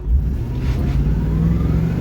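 A GMC 2500HD pickup truck's engine roars at full throttle, loud and steady with a deep rising drone close by, no talking over it.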